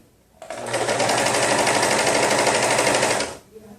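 An ultralock overlock machine sews the side seam of a flat-fabric baby look T-shirt, running in one steady, loud, close whirring burst of about three seconds, then stopping.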